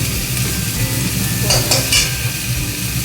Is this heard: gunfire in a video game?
no